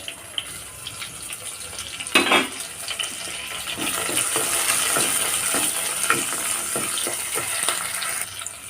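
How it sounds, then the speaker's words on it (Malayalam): Four green chillies drop into a simmering yogurt and carrot curry with a brief sharp splash, followed by a steady close sizzle and light stirring. "നാല് പച്ചമുളക് ഇട്ട് കൊടുക്കുന്നുണ്ട്"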